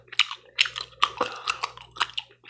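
Close, whisper-quiet gum chewing with wet clicks and smacks in an irregular rhythm, a low steady hum running underneath.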